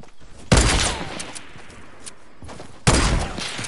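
Two heavy bursts of Fortnite gunfire, close and loud, each hitting hard then trailing off into a noisy tail during a build battle match.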